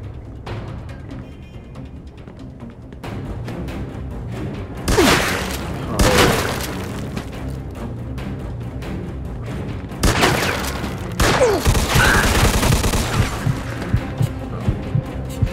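Gunfire in the 1940s-style crime game Mafia 2, with two loud bursts of shots around five and eleven seconds standing out over a steady rumbling game soundtrack.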